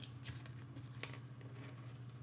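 Rustling and crinkling of packaging as a Pergear CFexpress Type A memory card is unwrapped, quiet scattered handling sounds over a low hum.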